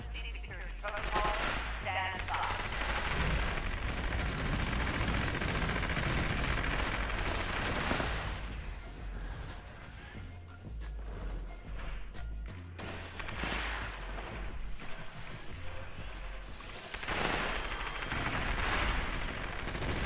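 Dense automatic gunfire fills the Fallout 76 game for long stretches, rapid bursts hammering close and loud. They stop in brief pauses and then start up again, with some speech mixed faintly into the action.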